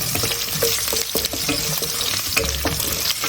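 Sichuan peppercorns, star anise and garlic hit hot oil in a wok, giving a close, steady crackling sizzle with a few stirring scrapes and knocks.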